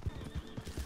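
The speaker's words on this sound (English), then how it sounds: "Sounded like a horse fell on Inca." Horse sounds in the Red Dead Online video game, with a faint whinny over a steady clip-clop of hooves, about four dull thuds in under a second.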